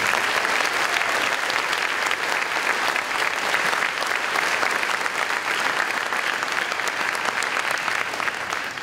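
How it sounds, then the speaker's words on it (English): A large crowd applauds at a high school graduation ceremony, dense sustained clapping that stays loud and even before easing slightly at the end. "Please give them a round of applause."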